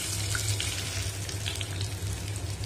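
Small onions sautéing in a pan for a chutney, a steady close sizzle with faint crackles and occasional light stirring, moderately loud and continuous with no voices.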